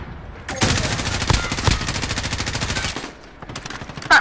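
Rapid automatic M4A1 rifle fire in the game Modern Warfare, loud and close, bursting in continuous rattling volleys for about two and a half seconds, then a pause before a few more scattered shots.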